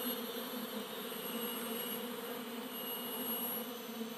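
A bee colony being relocated hums in a dense, continuous buzz of many insects, steady and close, with no voices.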